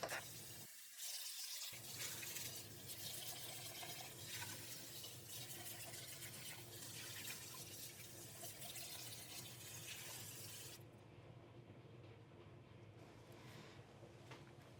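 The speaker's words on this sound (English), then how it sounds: "we are going to get this all rinsed off and see how it looks" Tap water runs steadily over tumbled petrified wood being rinsed in a sink, a close, continuous splashing hiss that briefly drops out near the start and softens toward the end.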